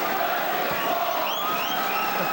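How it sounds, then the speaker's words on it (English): A crowd at a college basketball game between Xavier and Richmond cheers in a steady, dense roar with scattered whoops throughout the short stretch. "Good cheer from the crowd."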